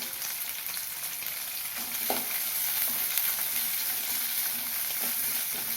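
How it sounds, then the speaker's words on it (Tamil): About twenty garlic cloves fry in oil in a pan for a Tamil kara kuzhambu, giving a steady close sizzle with occasional stirring scrapes and no talking. "இப்போது இருபது பல் பூண்டு சேர்த்துக்கிறேன்"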